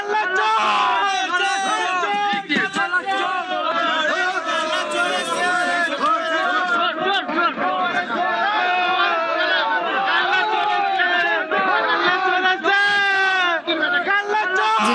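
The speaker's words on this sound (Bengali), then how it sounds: "চোর স্লোগান" A crowd in a court compound chants and shouts 'thief, thief' at a former legislator under arrest. Many voices blend into a loud, continuous, dense roar of chanting and babble throughout.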